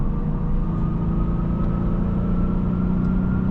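A 2026 Genesis G70 3.3T Prestige accelerates, heard from inside the cabin as a steady low engine drone with a rising hum under road rumble, continuous and moderately loud with no talking.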